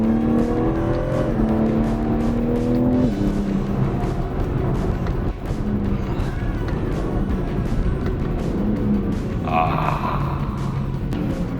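A BMW M3 accelerating through its gears, the engine note climbing in steps with abrupt shift breaks between them, heard from inside the car under a man's speech.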